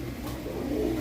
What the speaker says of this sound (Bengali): এইখানে দেখতে পাচ্ছেন এক জোড়া সুপার কোয়ালিটির ভিতরে সিরাজি কবুতর